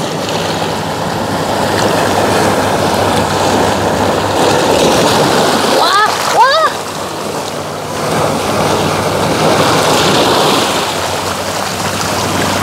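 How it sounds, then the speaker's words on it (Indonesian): Ocean waves wash and splash against rocks in a loud, continuous rushing surge, with wind buffeting the microphone and a brief high chirp partway through. "Kayaknya ombaknya lumayan, mulai besar kayaknya."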